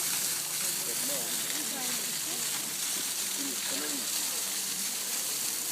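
A Peterhof fountain ringed by small turtle-shaped spouts gives off a steady, unbroken rush of splashing water, with indistinct voices murmuring faintly in the background.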